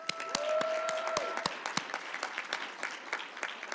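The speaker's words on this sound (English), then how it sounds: "Can we give a round of applause for our students?" Applause for students at a youth-led school board candidate forum, sharp individual claps standing out as it thins, with a whistle near the start.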